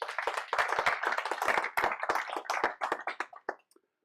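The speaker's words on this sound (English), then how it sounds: "So please give Mark a big round of applause." Applause from a modest audience at a WordPress London meetup, a few seconds of fairly close, uneven clapping that thins out and stops abruptly.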